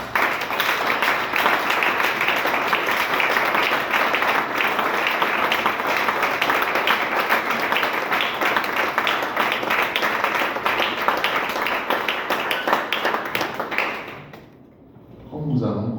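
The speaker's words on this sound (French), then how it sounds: "Je voudrais qu'on puisse acclamer très fort le Seigneur." A church congregation at a gospel conference in Togo applauds loudly and continuously for about fourteen seconds, a dense roar of clapping with voices mixed in, before it fades abruptly.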